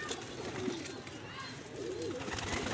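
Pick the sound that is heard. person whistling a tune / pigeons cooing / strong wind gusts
pigeons cooing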